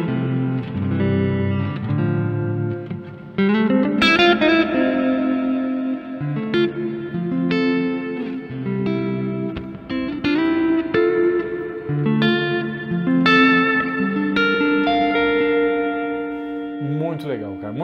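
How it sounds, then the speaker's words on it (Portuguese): Electric guitar through a Caline Ragnarok reverb and delay pedal, chords and single notes ringing out with long washy reverb tails and echoes, loud and close, played alone. "Sonzeira de reverb, cara."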